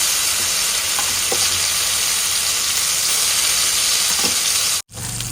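A ground spice paste with onion sautés in a pan, giving a continuous loud sizzle and hiss. A few faint stirring taps sit under it, and it cuts off abruptly near the end.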